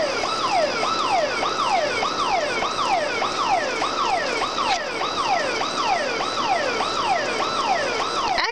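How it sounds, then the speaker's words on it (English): A car alarm wails in a fast, repeating rising-and-falling sweep, loud and unbroken, cycling roughly twice a second with no voices over it. "Now that I'm closer to it, it sounds like a car alarm. It's a car alarm."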